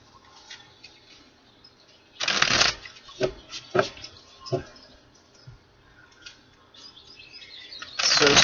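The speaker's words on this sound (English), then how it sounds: "One more shuffle." Tarot cards are shuffled in several quick riffling bursts, close and crisp, with short taps and rustles between them and a final burst at the end.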